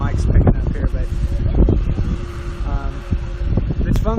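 Gusty wind buffets the microphone with low rumbling thumps and flapping, while a voice speaks underneath the blustery noise.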